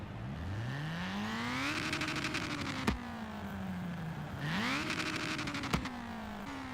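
Ford Fiesta XR2 engine in Forza Horizon 3 revving hard to redline twice, pitch climbing steeply then falling back, with a sharp click or shift pop at each peak, loud and close with no talk.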